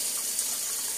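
Tap water runs steadily as a face is rinsed under it in a workshop setting, a soft continuous splashing hiss at close range with no talking.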